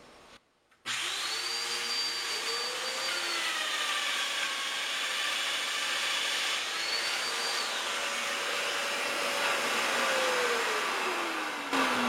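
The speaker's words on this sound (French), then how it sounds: "Et je fais les 96 mortaises tout le temps." A Festool Domino joiner cuts mortises in wooden drawer boards, a loud, steady high-pitched whine with a motor pitch that dips and rises as the cutter plunges, close by and continuous after a short quiet start.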